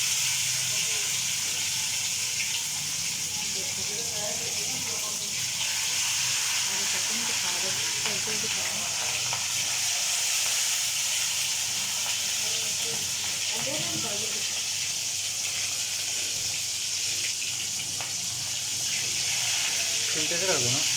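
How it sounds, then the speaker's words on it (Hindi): Chicken pieces fry in hot ghee with a steady, dense sizzle and hiss that holds evenly throughout, with faint stirring and clatter underneath. "अब इसको फ्राई करेंगे। अब इसको फ्राई करना है।"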